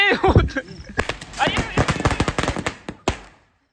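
Rapid string of sharp firecracker bangs crackling in quick succession, loud and close, ending with a final pop before falling quiet, during the Gauri-Ganesha festival in Belagavi.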